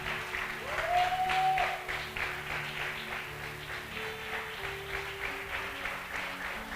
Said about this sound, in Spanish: dele un fuerte aplauso al Señor por su palabra.